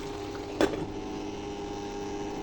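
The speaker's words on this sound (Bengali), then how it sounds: "মাংসটা আগে ভালো করে আমি সিদ্ধ করে নেব" Beef shank meat boiling in a pot, a low steady bubbling simmer with one brief louder bubble or clink near the start, close and continuous.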